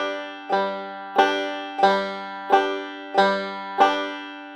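Banjo pinch pattern, the index finger plucking the third string and then a pinch, repeated in a steady rhythm of six bright plucked attacks that each ring and decay, played alone.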